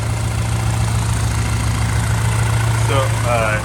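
An Audi A4 engine with a big turbo idles steadily with a low, constant rumble throughout, and faint voice-like sounds emerge briefly near the end.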